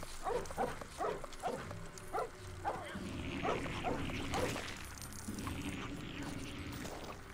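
A dog character in the PC game Lego Harry Potter gives a quick series of short barks and yips, followed by busier game sound effects and clatter, at moderate level.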